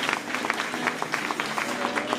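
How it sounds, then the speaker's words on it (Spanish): A small gathering at a rural community association event claps in a brisk, fairly even round of applause, moderately loud and continuous with no talking. "Aplauso para Dorita, que siempre nos invita a la radio."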